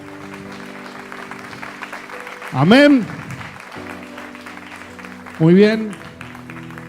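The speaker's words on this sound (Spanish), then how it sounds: "Denle un aplauso al Señor Jesús esta mañana" A church congregation claps during a Sunday morning service, the dense applause running under a preacher's brief spoken words and a soft sustained musical backing.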